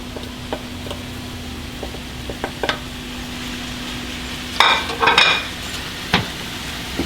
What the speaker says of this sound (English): we are going to add the minced meat on top of the onions